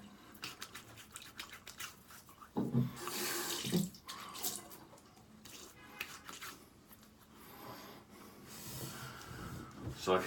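Tap water runs steadily into a bathroom sink during a post-shave rinse with a Rockwell 6C razor, with brief splashes and louder bursts as hands cup the water, close and continuous with no talking.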